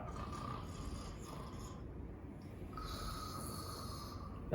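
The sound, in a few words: person imitating snoring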